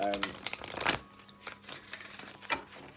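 Tarot cards are riffled and shuffled in quick papery bursts, a brisk flutter followed by a few softer taps and slides, close up.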